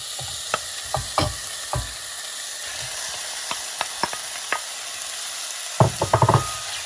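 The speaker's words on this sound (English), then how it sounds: "Now we're going to start off with adding our bacon to the saucepan." Bacon fries in a saucepan with no oil, a constant close sizzle and hiss punctuated by sharp scraping stirs of a utensil against the pan, with a quick burst of stirring near the end.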